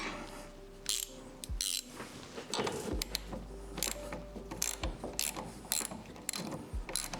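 A ratchet wrench clicks in quick bursts while suspension bolts are tightened on a car, close and fairly quiet, with short pauses and metallic clinks between runs and no talk.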